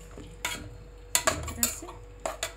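Boiled potatoes for aloo dum stirred in a metal pan, a spoon scraping and clinking in scattered sharp knocks and short scrapes, fairly close and alone.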